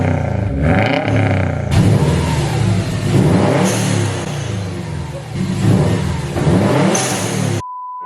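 Subaru WRX STI with a catted downpipe and new single-exit catback exhaust revving hard up close, a loud rasping engine rising and falling through several throttle blips, ending abruptly with a steady beep.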